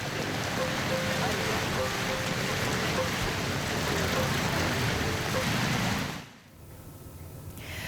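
Heavy rain pours down on a flooded street in North Jakarta, a dense steady hiss of water close by that drops away sharply near the end.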